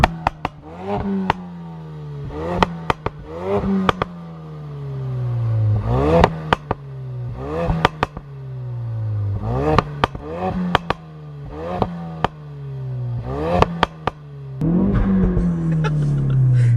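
A Ford Focus RS engine revs repeatedly in sharp rising bursts, each dropping back to idle, about a dozen times, close and loud.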